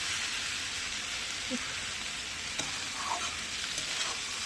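Meat frying in a pan over a high gas flame, giving a constant hissing sizzle with faint stirring sounds, moderately quiet and steady.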